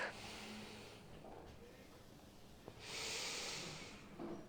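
Deep yoga breathing in and out, with a long airy inhale, a quieter exhale and then another strong breath, close and soft against a faint hiss.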